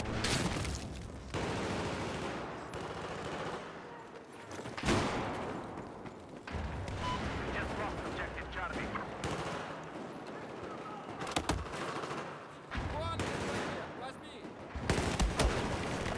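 Gunfire in the PC shooter Battlefield 4, with rapid bursts and automatic weapon fire rattling on and off, several sharp loud volleys standing out, mixed under a player talking.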